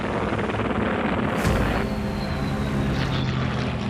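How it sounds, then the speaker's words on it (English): Hurricane fighter aircraft dive to attack bombers, heard as a dense, continuous roar of aircraft engines with a brief louder swell partway through. "Patrick's Hurricane Squadron dives out of the sun to attack the bombers"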